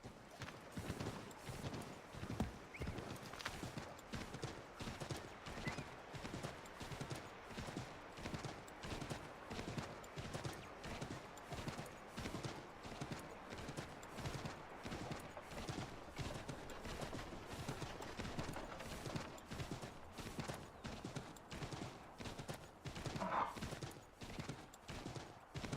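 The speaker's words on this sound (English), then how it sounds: "Come on, horse." Rapid, steady clip-clop of horse hooves in Assassin's Creed 3, a dense galloping rhythm running throughout over game ambience.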